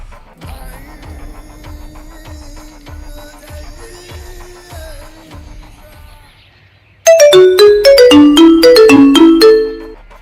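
Phone ringing while a call is placed: a soft tone pattern with faint background hum gives way to a loud melodic ringtone of bright repeating chimes for several seconds before cutting off.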